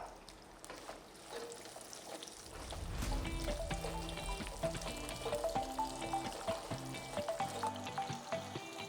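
Small sambar onions dropped into hot oil, a quiet start that swells into a loud, bubbling sizzle with crackling pops, close and continuous with no talking.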